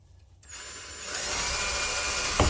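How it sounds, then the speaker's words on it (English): A power drill whirs up after a quiet start, spinning steadily as it drives a screw, ending with a short knock. "Should be tightening that with a screwdriver and not a power drill."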